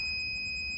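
A gas sensor's alarm buzzer sounds at a dangerously high gas level, giving a steady, continuous high-pitched electronic tone with a bright overtone that holds unbroken over a faint low background hum.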